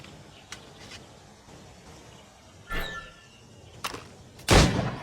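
Gunshots ring out during target-shooting training in the video game Assassin's Creed Rogue. A few scattered shots crack over quiet ambient background, then a louder, fuller blast comes near the end.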